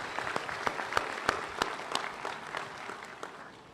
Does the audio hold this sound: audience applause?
yes